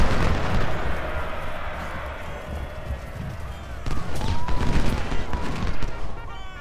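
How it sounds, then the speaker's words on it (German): Cannon artillery fire rumbles in the Civil War strategy game Ultimate General at the Battle of Gettysburg, a dense barrage of booms and crackling blasts that bursts louder partway through, heard under a voice. "Das waren die Kanonen."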